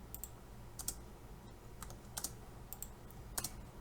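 Keys clack on a computer keyboard during AutoCAD drafting, a few sparse, quiet taps and one sharper press spaced unevenly against a faint room hum.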